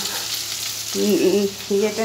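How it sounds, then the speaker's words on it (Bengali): Chicken pieces for chilli chicken fry in hot oil in a home kitchen, a steady close sizzle with brief tonal hums breaking in partway through. "চিকেনগুলো এবার ভাজা শুরু হয়ে গেছে"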